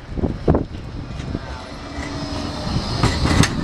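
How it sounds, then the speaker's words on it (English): A new tram rumbles past on its rails on the Blackpool seafront, with clanks and clicks of wheels over track joints, loud and close, swelling toward the end. "These are new trams"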